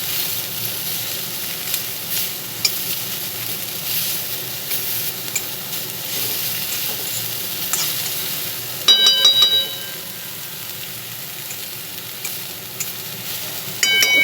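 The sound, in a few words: yardlong beans and curry leaves frying in a pan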